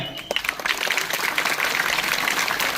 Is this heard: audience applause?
yes